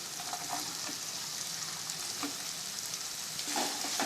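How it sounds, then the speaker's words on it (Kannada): Capsicum and onion frying in a pan for gobi manchurian, a constant bright sizzle broken by soft spatula scrapes and stirring taps, close and fairly quiet. "ಮತ್ತೆ ಒಂದು ನಿಮಿಷ ಫ್ರೈ ಮಾಡ್ಕೋಬೇಕು"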